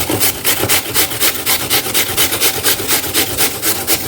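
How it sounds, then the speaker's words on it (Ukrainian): Peeled apples are grated on a coarse grater for an apple cake, giving loud, close, regular rasping strokes at roughly four per second, steady throughout. "Яблучко чистимо і натираємо на крупній тертушці."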